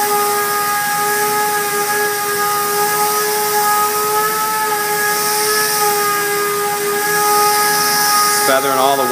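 Compressed air blows dust off an auto body panel freshly sanded through primer with 150 grit: a loud, steady hiss with a thin whistling tone that runs the whole time and wavers briefly near the end.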